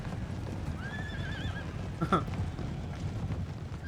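Galloping hooves clatter under a dense rumble of many horses in a cavalry charge in the video game Napoleon: Total War, with a horse's high whinny rising partway through.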